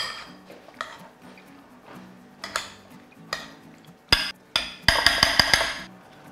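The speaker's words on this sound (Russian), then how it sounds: "Все тщательно перемешиваем." A spoon mixes canned red bean salad with onion and mayonnaise in a bowl, giving sparse clinks and scrapes that grow into a quick run of sharp metallic taps near the end.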